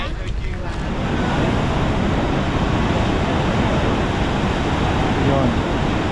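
Huka Falls in New Zealand gives a loud, continuous broadband roar of rushing water that fills the whole clip steadily.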